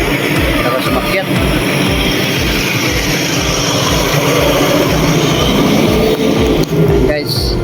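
Vehicles climbing a very steep concrete road in Santol, La Union, engines straining loudly with a rhythmic low chugging throb, heard close up while someone talks over the noise.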